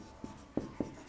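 Chalk or pen strokes during a Class 8 Hindi-medium math lesson on quadrilaterals, three short quiet taps and scratches in quick succession, close and faint, with no talking.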